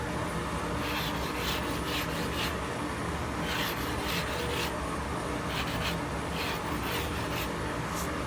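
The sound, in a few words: rubbing block dressing the edge of a granite block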